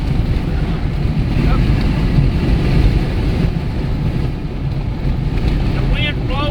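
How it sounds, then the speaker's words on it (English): Strong wind gusting at 40 to 50 miles an hour near a wildfire in Abilene, Texas, buffeting the microphone as a heavy, continuous low rumble with surging gusts, a brief whistling chirp near the end. "The wind's blowing probably 40 miles an hour, gusting up to 40, 50 miles an hour today."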